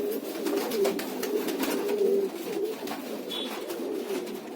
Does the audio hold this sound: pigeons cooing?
yes